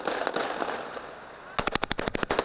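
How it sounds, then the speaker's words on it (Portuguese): Machine gun fire on a busy city street, Rua Doutor Pedro Zimmermann, heard as a rapid burst of about a dozen loud, sharp shots in quick succession after a stretch of noisy street ambience. "tiro de metralhador"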